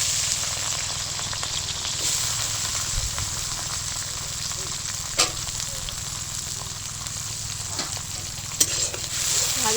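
Chopped capsicum frying in a pan for pav bhaji, a loud, constant close sizzle with occasional sharp clinks of the stirring spoon.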